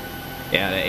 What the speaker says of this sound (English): the APU sound sounds different